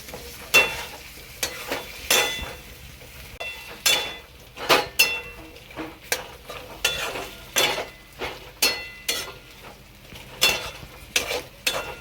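Eggplant and potato are stirred through roasted spices in a hot pan, making repeated scraping and clinking strokes at an irregular rhythm over a soft, continuous sizzle, with no talking.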